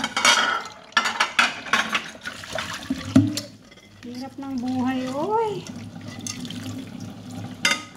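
Water is poured and splashes while dishes are washed at a sink, coming in intermittent bursts mixed with clinks of dishware, and a person talks at times.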